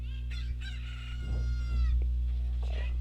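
A Cucco chicken crows in Zelda: Ocarina of Time, a short rising rooster-like call over a steady low game hum, with brief clucking sounds around it.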